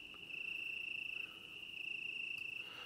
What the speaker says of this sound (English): let's type in night crickets